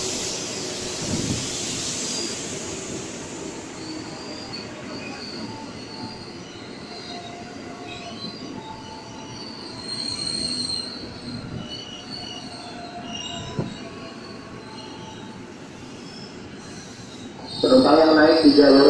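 A KRL commuter train departs Manggarai station in Jakarta, its wheels squealing with high, steady metallic screeches over a low rail rumble, with a platform announcement voice and a sharp louder burst near the end.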